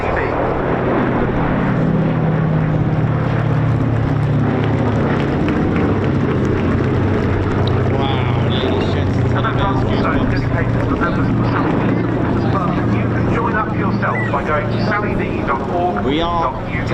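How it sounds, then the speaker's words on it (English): The B-17G Flying Fortress Sally B, a four-engine piston bomber, makes its final flypast at an RAF Cosford air show with a loud, continuous rumbling drone, while a voice talks over the public address throughout. "Final run, the B-17G Flying Fortress,"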